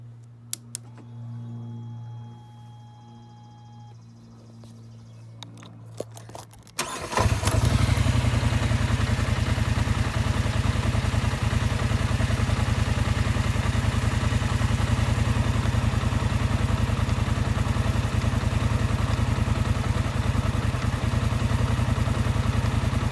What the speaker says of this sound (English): I'll go ahead and fire it up for you guys and show you.